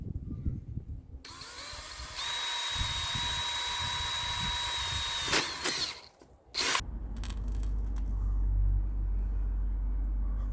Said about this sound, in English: now that I've drilled the holes down the bottom of this tray